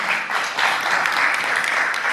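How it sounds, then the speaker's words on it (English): Event audience gives a round of applause for a panelist from Turkish Airlines, a thick, continuous patter of many clapping hands, steady and fairly loud for a couple of seconds. "Another round of applause for her."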